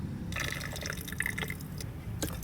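Aqua regia, about 320 ml, poured onto crushed natural rock samples in a gold test, giving close, trickling liquid splashes and drips that run unevenly for a couple of seconds, with no one talking.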